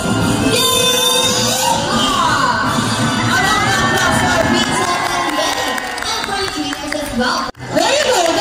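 Audience at an Ocean Park bird show cheering and shouting, with children's high yells, a dense, loud crowd roar that holds steady and briefly cuts out near the end, while an announcer talks.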